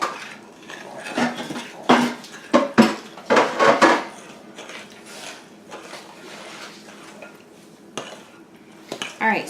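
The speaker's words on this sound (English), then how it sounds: "we're going to go ahead and mix these up" Cinnamon roll ingredients being mixed in a bowl, with close clinking and scraping of a utensil against the bowl in quick bursts that grow sparse toward the end, and no talking.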